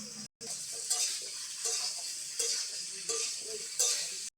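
Plantain pieces sizzle steadily in hot oil, with a soft stirring scrape every second or so; close and fairly quiet, no voices.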